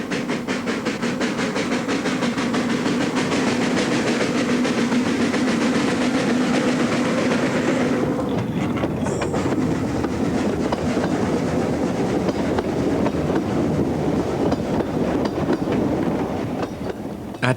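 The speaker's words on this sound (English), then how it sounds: "At Quarry Crossing, the keeper, Amanda, shows a clear road to a train approaching downhill." A heritage steam train on a Welsh railway approaches downhill past a level crossing, a loud continuous rumble with rhythmic clickety-clack of wheels and hissing steam, shifting in tone partway through as it passes close by.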